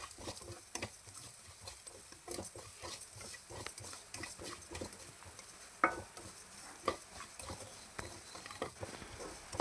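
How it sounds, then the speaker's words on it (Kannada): Cumin and fennel seeds frying in a pan while being stirred, a faint soft crackle and patter with repeated light scraping strokes throughout, fairly quiet and with no talking. "ಈಗ ಇದನ್ನು ನಾನು ಚೆನ್ನಾಗಿ ಒಂದು ಸ್ವಲ್ಪ ಹೊತ್ತು ಫ್ರೈ ಮಾಡ್ಕೊಳ್ತೀನಿ."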